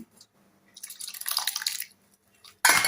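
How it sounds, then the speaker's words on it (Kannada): Curd is spooned onto cooked puliyogare rice in a kitchen, giving a close, soft wet plop and smear that lasts about a second, followed by a sharper scrape near the end. "ಇದಕ್ಕೆ ಇವಾಗ ಮೊಸರು ಹಾಕ್ತಾಯಿದ್ದೇನೆ"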